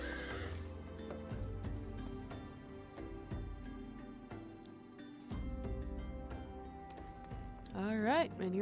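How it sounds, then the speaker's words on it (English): A horse in a video game neighs near the end over steady game music with busy tonal layers, hooves faintly present underneath while the scene carries on. "Oh, there's a horse."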